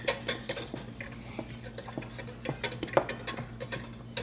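A spoon scrapes and clinks around a pot of lasagne sauce, giving steady, repeated stirring strokes at close range with light metallic taps. No one speaks.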